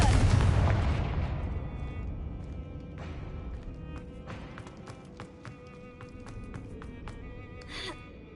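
A Confringo blasting curse goes off in the Hogwarts Legacy video game, a loud booming burst at the start that rumbles away, followed by scattered sharp crackles and taps of debris.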